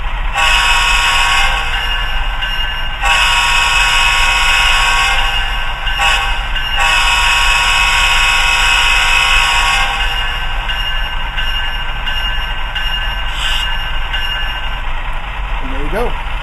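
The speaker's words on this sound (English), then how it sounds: "And a K5 horn, which is standard in all GEVos" K5 horn on an HO scale ScaleTrains ET44AC Tier 4 GEVo locomotive model, sounding loud in repeated long blasts with short breaks, then falling away while the model's motor rumbles on.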